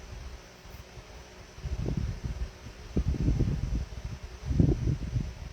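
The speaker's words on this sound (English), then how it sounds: "is the fan in the background causing distortion?" Steady background hum and airy hiss of an electric fan running throughout, with low rumbling thumps and handling noise swelling over it partway through; no speech.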